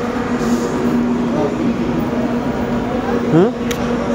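Inside a 3AC coach of the Rajdhani Express, the moving train gives a steady low rumble and rattle, with a brief squealing sweep near the end and people talking over it.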